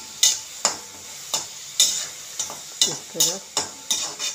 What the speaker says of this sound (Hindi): उसके बाद इसको लाल होने तक चलाते रहना, कांदे सुनहरा होने तक इसको पकाते रहना।